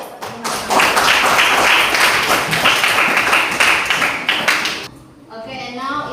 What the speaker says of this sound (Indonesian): Oke, give applause.